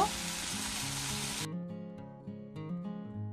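Chili, turmeric and cumin powders sautéing in oil for a potato, cauliflower and carrot curry: a bright, hissing sizzle for about a second and a half that cuts off abruptly, followed by tuneful music.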